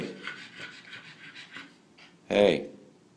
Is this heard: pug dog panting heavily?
yes